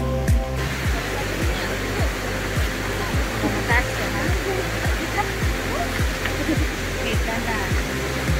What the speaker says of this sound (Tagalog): makikita dito ang agos ng malinis sa tubig